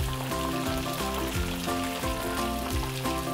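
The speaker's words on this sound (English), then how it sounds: "You can hear that sizzle" Ukoy (Filipino fritters) sizzle and crackle steadily in a hot pan, a dense continuous frying noise with faint rhythmic music-like tones beneath it.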